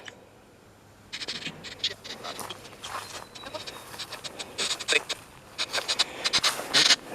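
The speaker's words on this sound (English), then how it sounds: "it basically just scans through radio stations" Crackly static bursts and brief snatches of sound jump in quick succession, like a radio rapidly scanning stations, choppy and uneven after a quiet start.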